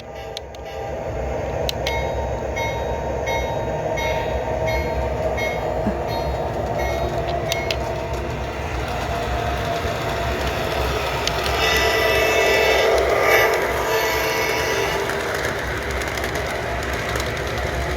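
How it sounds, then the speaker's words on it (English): A model train set runs on a layout in the evening, a steady rolling rattle with faint clicking wheels continuing throughout at moderate distance. "We're moving this train."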